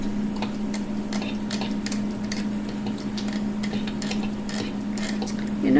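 Lotion stirred in a hot container, rhythmic scraping and clinking of a utensil against the sides under a constant low hum, close and steady, ending in a louder final scrape.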